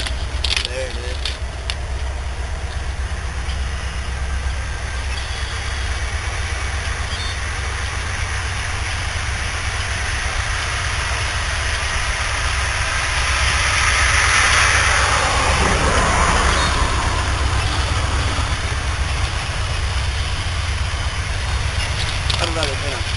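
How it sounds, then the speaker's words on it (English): A Norfolk Southern freight train rolls past outdoors, its steady rumble and rail noise swelling midway as it picks up speed, with continuous broadband roar throughout and faint talk nearby. "The Norfolk Southern train coming now."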